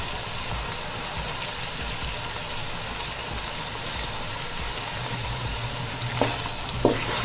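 Chicken frying in a covered pan for chicken pulao, a steady loud sizzle throughout with a couple of faint clicks near the end, no talk.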